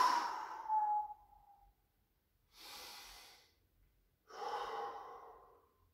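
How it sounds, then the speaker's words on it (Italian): Slow, deep breathing after goblet squats, three long breaths separated by silent pauses: a drawn-out first breath with a faint whistling tone, then two softer airy exhales, close and quiet. "Respirazioni lente e profonde."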